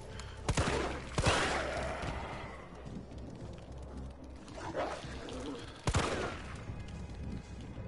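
Gunfire aimed at a monster in the video game Resident Evil 3, a few sharp loud shots against a busy rumbling game background.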